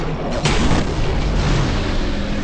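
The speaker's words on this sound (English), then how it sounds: "kills with this weapon cause the target to explode" A target explodes after a kill with the Thunderlord exotic machine gun in Destiny, giving a loud, close booming blast that rolls into a dense rumbling roar for the full moment.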